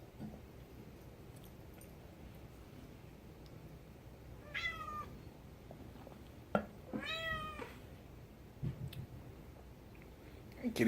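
A cat meows twice in a quiet room, two drawn-out wavering cries a couple of seconds apart, with faint clicks around them.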